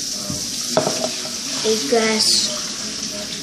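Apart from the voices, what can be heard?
cooking in background kitchen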